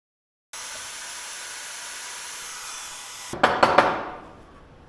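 A Portaband portable band saw cuts steadily with a hissing whine during a blade test. Near the end, a few sharp clunks ring out as the cut finishes, and the sound fades as the saw winds down.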